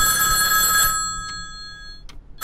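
An old-fashioned bell phone rings loudly in the horror video game Hellseed, a sustained metallic trill that stops abruptly, then returns in short bursts before starting again at the end.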